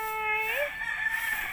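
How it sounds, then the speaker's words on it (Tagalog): A rooster crows once, close and clear, its call rising then holding steady for about a second. "Oh, ito lumalaban tong manok na to."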